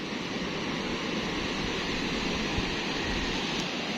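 Big sea waves surging around a small fishing boat at sea, a loud unbroken wash of rushing water that stays steady throughout.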